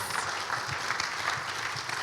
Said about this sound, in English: Can we give this panel a round of applause?